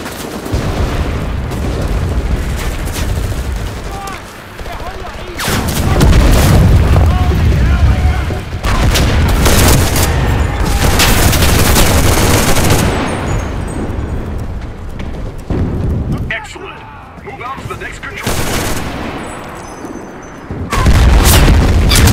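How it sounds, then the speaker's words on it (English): Artillery barrage in the WWII shooter Enlisted, US Army forces fighting on the Omer map: heavy repeated booms and rumbling blasts, loud and close, rolling in waves with gaps between volleys, with voices talking in between. "Calling in artillery!"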